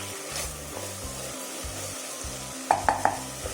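Tomatoes stirred and mashed in a pan while cooking a cauliflower curry: a steady soft sizzle with rhythmic scraping strokes, then three quick taps of the utensil against the pan near the end.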